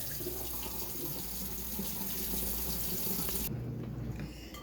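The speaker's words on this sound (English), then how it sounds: "I'll wash out my dish" A kitchen sink tap runs steadily as a dish is washed in a home baking session, a continuous close hiss of water with a brief shift in tone near the end and no talking.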